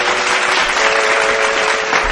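An audience gives a loud, dense burst of applause welcoming a bhajan singer on a devotional stage, the steady clapping running throughout with a faint held tone beneath it.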